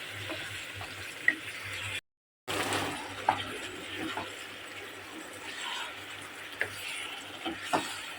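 Chicken and spices sautéed in a pan give a soft, steady sizzle with occasional stirring scrapes and clinks, fairly quiet and close, broken by one brief silent gap.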